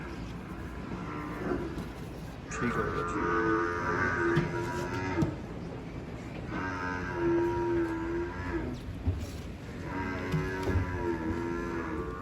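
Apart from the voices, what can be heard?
buffalo at a milk competition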